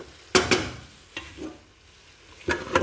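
Chicken is stirred with coriander, black pepper, turmeric, salt and cumin powder in a pan for kabsa, giving several close scraping, clattering stirs over a low sizzle, with no voices.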